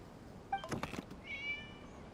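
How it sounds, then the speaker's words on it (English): A cat in the video game Genshin Impact gives a short, fairly quiet meow, a brief rising-then-falling cry with a slight rustle around it, heard alone without speech. "It was just a cat."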